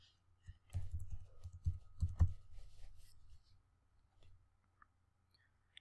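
Keys clicking on a computer keyboard while entering a dummy number into a form, a quick close burst of faint taps then a few isolated clicks, with no speech.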